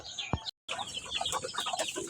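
Hen clucking on a Filipino backyard farm, a few short close clucks and soft calls over rustling, with a brief dropout in the middle.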